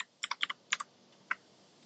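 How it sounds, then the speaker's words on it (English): Typing on a computer keyboard: a quick run of about six soft, close key clicks in a quiet room, uneven in rhythm with a short pause before the last tap. "type the word game over"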